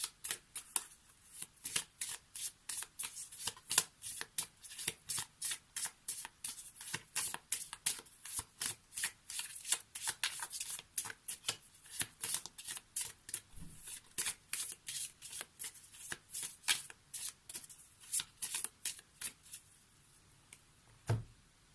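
Oracle Plume cards are shuffled over and over, with a long run of crisp, rapid riffling flicks in steady bursts that close up, gradually thinning out toward the end.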